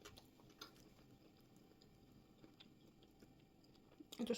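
Someone chews a creamy candy with gritty bits in it, producing faint, close, moist crunching and clicking, steady and quiet, with a louder rustle at the very end.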